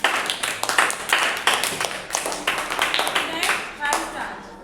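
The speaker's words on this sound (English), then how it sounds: "clap कर दीजिए." Children clap together in a classroom, a burst of quick, uneven hand claps from many small hands, fairly close and loud, rising and falling over several seconds with light chatter mixed in.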